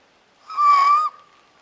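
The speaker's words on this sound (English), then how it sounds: "This owl just flew in with Bobby making a hurt rabbit sound." A single owl call in remote Oregon woods right after the bird flies in: one clear, half-second hooting cry, fairly loud and near, trailing into a faint tail, alone without talk.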